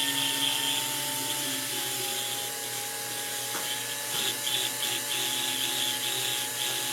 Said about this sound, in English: you hold the burr straight up and down this way and work your way down